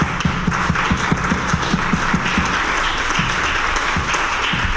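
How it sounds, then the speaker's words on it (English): An audience applauds steadily at a panel event, a dense wash of clapping with some distinct nearby hand claps, sustained throughout. "Please give them a warm applause."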